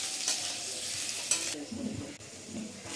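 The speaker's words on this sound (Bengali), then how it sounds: "এবার আলুগুলো আমি একটু হালকা করে ভেজে নিচ্ছি" Potatoes frying in oil with black cumin seeds for a vegetable curry, a soft steady sizzle with brief stirring scrapes near the pan.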